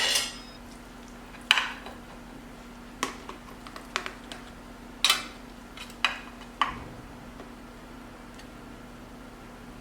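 A spatula scrapes and clanks against a baking dish while lifting out a baked enchilada bubble up, giving a series of sharp, separate metallic scrapes and taps over a steady low hum.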